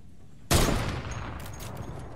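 A single sharp, loud sniper shot in a battle royale video game cracks out, then its long echo and reverberating tail fade away, followed by faint further noise.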